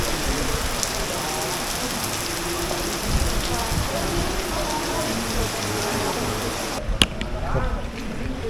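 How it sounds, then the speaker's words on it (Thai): Heavy rain pours steadily in a dense, loud hiss over central Bremen, Germany, with a single sharp knock near the end and faint voices beneath. "ทีนี้ฝนตกหนักเลย จริงจังเลยทีนี้"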